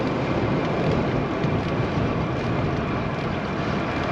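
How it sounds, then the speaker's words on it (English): Strong headwind buffets the microphone of a cyclist riding south on a road, a constant loud broadband roar and rumble with no breaks or talking. "Strong headwind."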